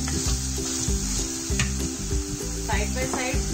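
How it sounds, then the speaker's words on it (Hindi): Finely chopped onions sizzling and browning in a pan for veg keema, a steady loud hiss broken by rhythmic scraping and stirring strokes, with a faint voice briefly heard. "इसको भी भून लेते हैं, कैरेमल कलर का भूनेंगे इसको"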